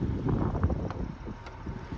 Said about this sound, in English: Sorry about the wind, it's been on and off today.